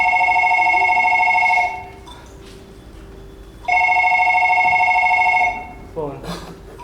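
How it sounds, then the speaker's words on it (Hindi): A telephone rings twice during a stage play, each long electronic trill lasting nearly two seconds with a pause between, clear and loud before a brief voice follows. "फोन।"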